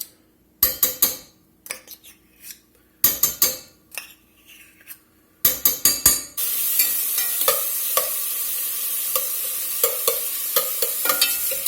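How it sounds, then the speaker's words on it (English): Salt pork fat renders in a pan over medium-low heat, starting with a few stirring scrapes and clinks, then settling into a steady, close hiss of sizzling fat with occasional utensil taps. "We're just trying to render some fat, get it cooked a little bit."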